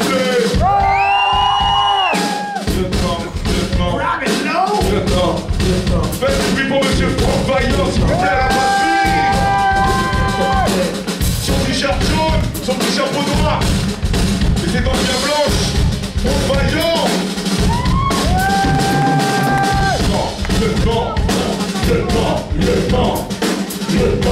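A concert crowd at a rap show in Blanc-Mesnil shouts, whoops and cheers loudly and continuously, with several long sustained yells rising above the dense roar of voices.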